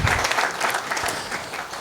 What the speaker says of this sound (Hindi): जरा ताली दो उनके लिए